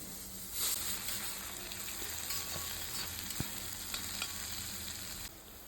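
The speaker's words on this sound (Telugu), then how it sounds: "మనము పచ్చిమిర్చి కొత్తిమీర కరివేపాకు వేసుకొని ఇవి కూడా ఇందులో ఫ్రై అవనివ్వాలి" Green chilies, coriander and curry leaves fry in hot oil for a dry fish curry, a quiet steady sizzle with a few scrapes of stirring in the pan.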